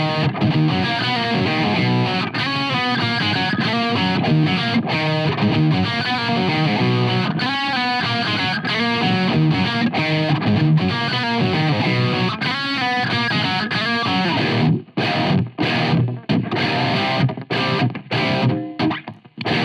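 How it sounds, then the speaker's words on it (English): Electric guitar riff played through metalcore distortion with a Boss PX-1, heavily saturated and loud, chugging and sustained notes in a driving rhythm, ending in choppy palm-muted stabs with short silent gaps. "I'm going to add some distortion from the metalcore here and play a riff."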